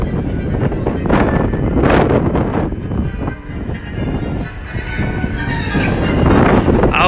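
Wind buffets a microphone on Southport pier, making a loud, continuous low rumble with gusty swells that lasts throughout.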